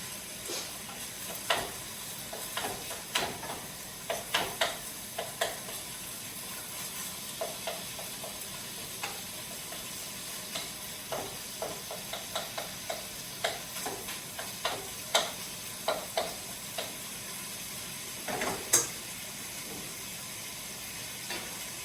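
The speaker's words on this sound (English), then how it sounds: "You can already hear it sizzle." Steady crackling sizzle of chicken frying in hot oil for fajitas, with scattered sharp pops and spits over a constant hiss.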